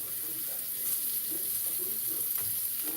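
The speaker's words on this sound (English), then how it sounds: "And you saute it, stir it up, and it starts sauteing and releasing the flavor" Diced white onion sizzles softly in a pan while being stirred, with a gentle steady hiss and a few light scrapes and clinks from the spoon.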